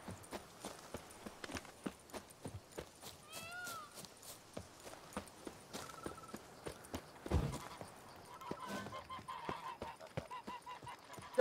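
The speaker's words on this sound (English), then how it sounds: "Ducks." Ducks quacking in The Witcher 3, scattered honking calls mixed with footsteps that clop steadily through an outdoor game scene, with no talking.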